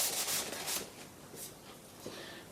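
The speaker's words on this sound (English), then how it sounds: "Clean the stone off," Someone rubs a Lansky knife sharpening stone clean with a few brief close scrubbing swipes, loudest at the start and then softer, with no voices.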